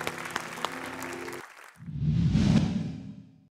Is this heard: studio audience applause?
yes